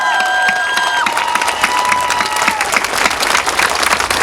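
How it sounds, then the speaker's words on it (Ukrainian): Loud, dense applause from a rally crowd in Kirovohrad fills the whole stretch, with scattered cheers, whistles and a brief steady tone early on, sustained evenly from start to finish. "Давайте ми разом привітаємо оплесками, щоб Донбас чув, що Кіровоград."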